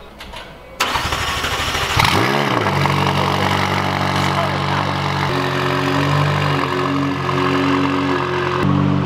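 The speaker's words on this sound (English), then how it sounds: "We're gonna get a cold startup on a 2017 McLaren 570S." A 2017 McLaren 570S cold-starts with a sharp starter whir and a loud engine flare, then settles into a steady, loud idle with a deep, shifting rumble.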